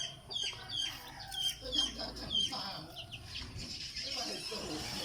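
A young chicken about two months old clucks and peeps in short, irregular calls close by, with faint voices talking in the background.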